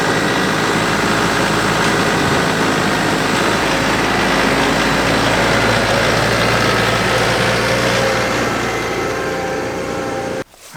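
A Branson subcompact tractor engine idles close by with a steady, droning hum and a low mechanical tone, running evenly before stopping abruptly at the end.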